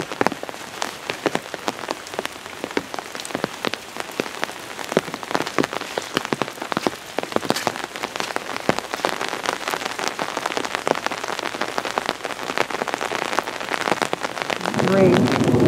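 Steady heavy rain at an Arkansas family home, a dense close patter on surfaces that continues throughout, with a faint low rumble near the end.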